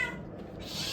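A cat gives a faint, short meow while eating from a box of cat biscuits, heard quietly and close by.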